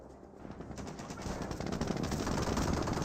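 Machine gun fire from a Company of Heroes battle, with rapid overlapping bursts and busy combat noise growing louder through the short stretch and no voices.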